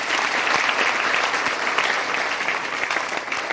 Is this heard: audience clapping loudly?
yes